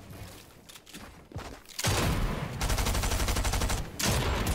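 Rapid gunfire from the video game Fortnite, loud bursts of automatic shots in fast repeating rhythm after a quieter start with scattered clicks and thuds, close and dominant.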